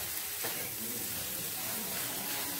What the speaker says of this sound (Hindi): अब इसे हम 2 से 3 मिनट सौते कर देंगे।